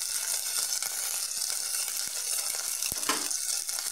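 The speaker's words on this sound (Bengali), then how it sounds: "আদা ছেঁচে দিলাম" Crushed ginger sizzling in hot mustard oil with whole cumin, a steady bright crackling fry with a few stirring scrapes and a small splash.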